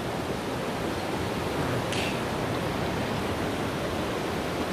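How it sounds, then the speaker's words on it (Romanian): A mountain waterfall in Austria, the Krimml falls, heard from a distance as a steady, even broadband rush with no change in level throughout. "Asta e cascada."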